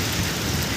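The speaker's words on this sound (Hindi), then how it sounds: "तो वेट करते हैं बारिश रुकने का" Heavy rain pours down in a dense, even roar, with strong wind in the storm, heard as a brief, steady wash of sound without any voices.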